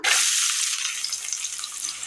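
Chopped onion hits hot oil in a pan on the stove, giving a sudden loud hiss that settles into a steady, bright sizzle.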